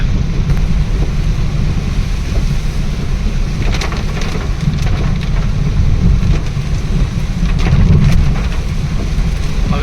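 Heavy rain drums hard and steadily on a moving car while the windshield wipers run fast, with a loud, dense roar and gusty wind noise that fill the whole stretch with no talk.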